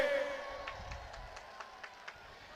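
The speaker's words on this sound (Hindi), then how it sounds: "एक बार जोरदार स्वागत करिए ताली बजा करके" Applause and cheering from a large crowd at a political election rally in Araria, Bihar, heard at a moderate distance as a steady wash of clapping with a few sharper claps standing out.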